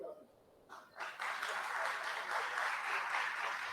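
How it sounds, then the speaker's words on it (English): Faint, distant applause drifts in from a neighboring event during a conference session, starting after a quiet moment and then continuing as an even, muffled patter. "I hear applause from another event."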